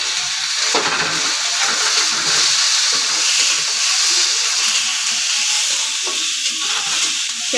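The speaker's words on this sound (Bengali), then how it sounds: "এবার দিয়ে দেবো এর মধ্যে ক্যাপসিকাম।" Onion and capsicum fry and get stirred in a pan for chilli capsicum macaroni, giving a loud, steady sizzle and hiss with scraping stir strokes throughout, close up and without talk.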